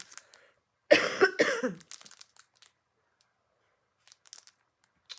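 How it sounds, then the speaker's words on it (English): A burst of harsh coughs close up, followed by quiet rustling and small scattered noises. "I'm sorry for the coughing."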